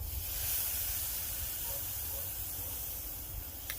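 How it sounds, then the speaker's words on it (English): A pork chop sears directly over hot coals on a kettle grill, giving a steady, loud hiss that runs unbroken from start to finish with no talking. "Let's go ahead and sear it right over the coals."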